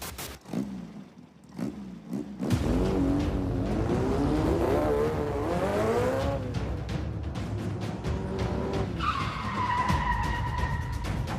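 Race car tires skid and squeal loudly with sweeping pitch over a roaring engine, sustained for several seconds, ending in a high steady screech as the car slides.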